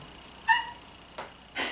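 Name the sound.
cat meowing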